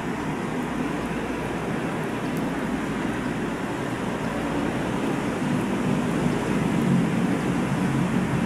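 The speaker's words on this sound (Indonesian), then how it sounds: "Detik-detik KM Prinsoya meninggalkan dermaga Pelabuhan Samarinda." Passenger ship KM Prince Soya pulling away from the dock at Samarinda harbour, heard as a steady, loud wash of water and wind with a low engine rumble running throughout, no voices.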